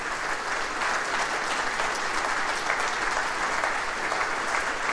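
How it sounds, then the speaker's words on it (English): Sustained, dense audience applause for the speakers at the close of an evening event honoring Mansfield's legacy, loud and steady throughout with no break. "one more round of applause for our tremendous speakers"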